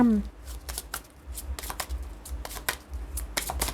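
Tarot cards shuffled in quick papery riffles and soft flicks, close and steady through the moment, with a faint low hum beneath.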